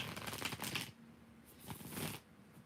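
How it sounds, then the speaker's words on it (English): Tarot cards are shuffled by hand in close, crisp bursts of riffling and sliding, with a brief lull in the middle before a second flurry. "I usually shuffle the cards"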